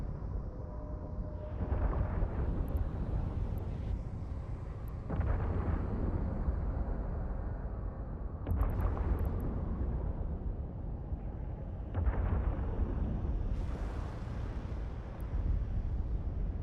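Missiles launching and blasting in a video game during an Abyss run, a sustained roar of deep rumbling explosions and bursts layered over one another, loud and continuous with repeated surges.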